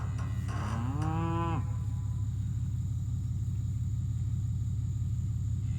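A cow on a farm gives one loud, drawn-out moo close by, heard over a constant low engine rumble from a vehicle or trailer.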